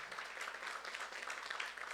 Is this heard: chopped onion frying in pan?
no